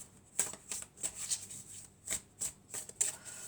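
Oracle cards shuffled by hand in a series of quick, crisp riffling bursts with short pauses between them, close up and fairly quiet, with no voices.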